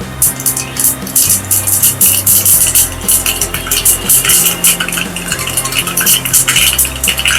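Mustard seeds crackle in hot oil with loud, rapid popping bursts over a low hum that wavers through the whole clip.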